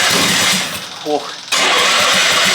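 A half-scale NASCAR engine cranks loudly on its starter in a sustained grinding burst, dips and briefly catches, then resumes cranking after a short break, with voices nearby.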